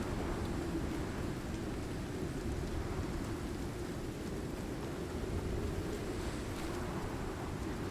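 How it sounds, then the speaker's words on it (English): Heavy, steady storm rain in a video game, a dense, constant roar of downpour with a low rumble underneath, unbroken and evenly loud throughout. "This is a bad storm."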